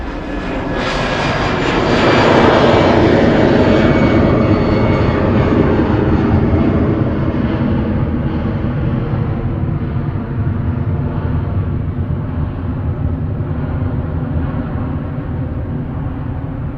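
A heavy jet airliner rolls for takeoff at Manchester Airport, its engine roar swelling over the first few seconds, then holding loud and broad before slowly fading as it moves away.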